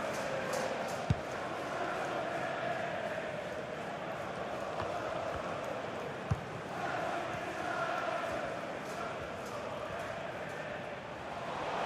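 A virtual stadium crowd cheers steadily in a FIFA 23 Premier League match between Manchester United and Brentford, a continuous roar with a couple of sharp knocks, underneath commentary.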